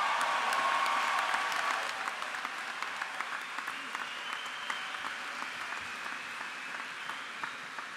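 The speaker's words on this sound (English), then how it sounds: "please join me in a round of applause for all the graduates today" A large crowd applauds graduates at an undergraduate commencement, loud at first and then easing into steadier, thinner clapping that continues to the end.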